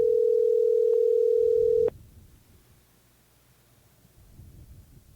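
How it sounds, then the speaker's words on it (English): A steady, loud telephone tone holds for about two seconds, then cuts off abruptly into quiet line hiss and faint rustling. "I wonder if John Webster's phone's going to be off from now on"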